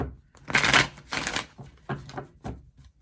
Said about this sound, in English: I have shuffled your cards. I'm going to shuffle some more.